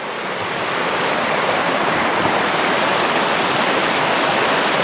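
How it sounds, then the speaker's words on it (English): A river rushes at a walking-trail crossing in Teesdale, England: a dense, steady roar of fast water that holds at a constant loudness throughout, close by, with no voices. "Right, so I've come to a river crossing here."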